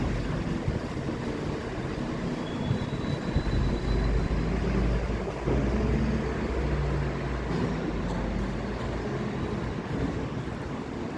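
A bus driving along a road in the early morning, a continuous low engine rumble with broadband road noise, fairly loud and steady throughout with no voices.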